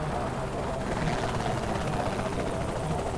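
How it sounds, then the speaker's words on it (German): Helicopter in the game Saints Row: The Third, a loud continuous rotor thrum with a rapid pulsing chop and engine rumble, steady and close for the whole stretch. "Wofür ist jetzt dieser Helikopter hier?"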